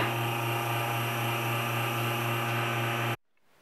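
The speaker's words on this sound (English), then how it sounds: "we'll hit it with some sandpaper and we'll be done" Turned wooden bowl being sanded with sandpaper: a loud, steady machine drone with a hissing rasp runs continuously, then cuts off abruptly near the end.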